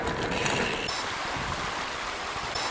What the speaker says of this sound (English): Right by a babbling brook.